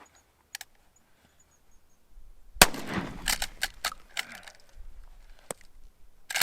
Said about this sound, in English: another cartridge would be expended until the trigger is let go or the shotgun is out of ammunition